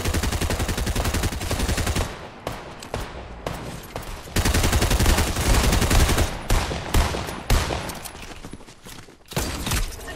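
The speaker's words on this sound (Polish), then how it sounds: "Dawid, strzelaj, strzelaj, strzelaj." Rapid gunfire from a video game, with dense bursts of shots and fusillade-like volleys rolling loud and continuous across most of the stretch, briefly thinning before resuming.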